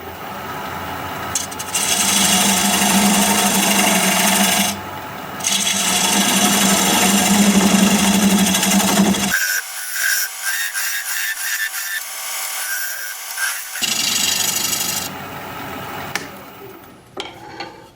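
Black walnut spinning on a wood lathe as a tenon is turned, a steady loud scraping, whirring cut that pauses briefly, then a stretch of quieter ringing tool chatter before the cutting resumes.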